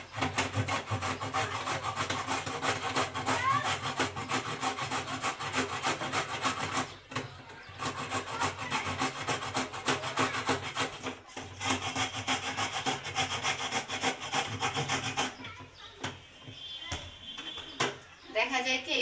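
Carrots are shredded on a small hand grater for gajor er haluwa, a steady close run of fast rasping strokes that continues with brief breaks while a person talks over it.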